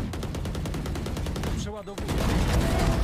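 Rapid gunfire from Valorant rattles in dense bursts through most of the stretch, dropping out briefly before resuming loud and continuous, with a voice talking faintly underneath.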